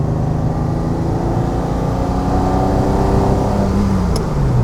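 A 1966 Ferrari 330 GTC with a 300 PS V12 drones loudly from inside the cabin while driving, its engine note rising steadily and then falling as a gear change comes near the end.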